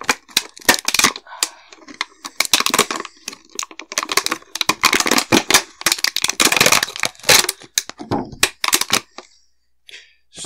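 A blade cuts an incision into a plastic bottle with loud, close crackling and crunching snaps in rapid irregular bursts, separated by brief silences.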